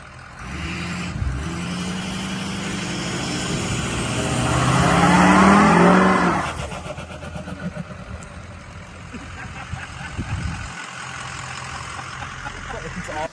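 A 2004 Ford 6.0 Powerstroke diesel truck engine runs nearby, swelling into a louder rev for a couple of seconds before dropping back to a rough, uneven idle, with voices talking over it.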